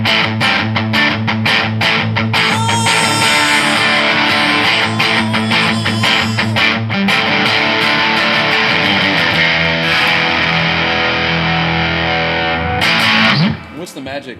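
Electric guitar played through a JHS SuperBolt V2 overdrive pedal, loud sustained distorted chords and ringing notes with rhythmic strums, cutting off abruptly near the end with brief low hum remaining.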